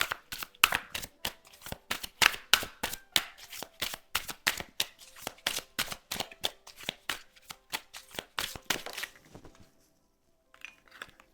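A deck of playing cards is shuffled over and over in quick, crisp riffling bursts that repeat at a steady rhythm for about nine seconds, close and fairly loud, before fading into near silence with a faint rustle at the end.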